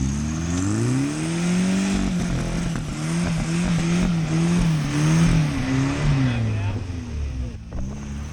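A Toyota 4Runner engine revs hard and holds high while its tires spin on an off-road obstacle, a loud close droning roar rising and falling in pitch for several seconds.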